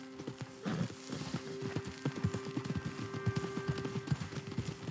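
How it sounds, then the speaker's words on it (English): Horse hooves clip-clopping in Red Dead Redemption 2, a quick rhythmic run of close hoof beats with a brief whinny early on, playing alone without talk. "Get a hold of that horse, will you?"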